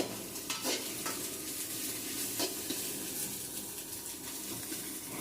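Egg fries over a high-flame stove for spicy noodles, a loud, constant sizzle with intermittent scraping strokes of a spatula against the pan.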